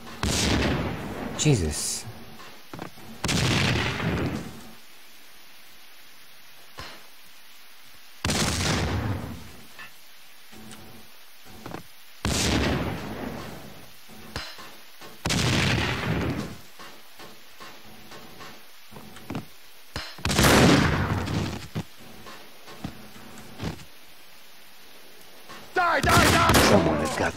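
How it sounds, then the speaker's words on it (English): Max Payne 2 combat brings loud grenade blasts and bursts of gunfire in repeated heavy waves, separated by short lulls, while someone speaks briefly between them. "Who the fuck is tossing these nades?"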